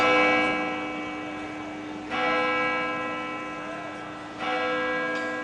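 A bell rings out to mark noon at a market square in Gangjin, South Jeolla, struck three times at slow, even intervals, each ringing tone sustaining and fading before the next.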